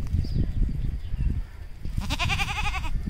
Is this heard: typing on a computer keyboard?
no